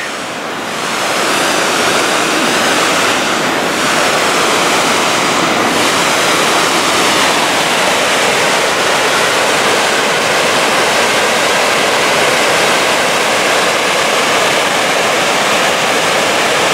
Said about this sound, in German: Und da sieht man, wie kraftvoll das Wasser rauskommt.